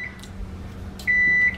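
A kitchen timer beeps in a home kitchen while cooking: a short beep, then a longer sustained electronic tone, moderately loud and close over faint room noise.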